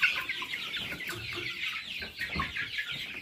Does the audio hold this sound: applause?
no